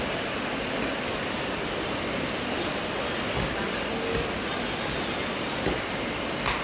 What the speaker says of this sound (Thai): ได้ยินเสียงฝนปันใด